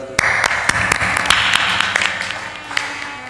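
A satsang audience claps along to a devotional bhajan, a string of sharp, fairly steady hand claps over a continuous backdrop of singing and crowd sound.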